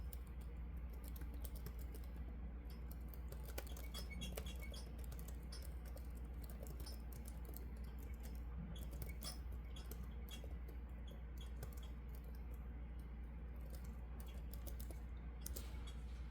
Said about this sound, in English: I don't type super slow like this. I just have nails on and it's harder for me to do it.